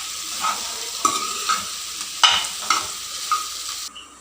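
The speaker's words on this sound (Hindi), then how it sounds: "हम इसको अच्छी तरीके से मिक्स कर लेंगे" Vegetables for a red veggie pasta are stirred in a hot pan, giving a steady sizzle broken by several scraping strokes of the spoon at an uneven rhythm, close and moderately loud with no talking.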